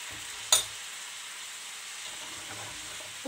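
Chard greens sizzling and frying in a wide pot over high heat, a steady soft crackle with a sharp clatter of stirring near the start and faint utensil scrapes toward the end.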